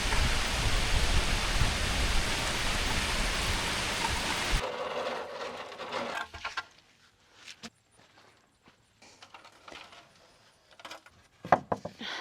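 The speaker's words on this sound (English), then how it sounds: "So we have to stop, and hopefully there isn't too much rain." Steady rain hiss on an outdoor chicken coop build site in Carolina heat, loud and continuous for about four and a half seconds before cutting off abruptly, leaving near-quiet with a few scattered knocks and taps.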